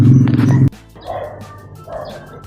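A large dog gives one loud, close bark, then a couple of softer yips or whines follow in a quieter room.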